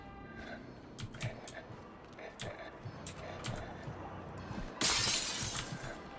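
Glass shatters in the horror game Outlast Trials: a sudden, loud, bright crash near the end, after scattered clicks and thuds, with a person talking faintly underneath.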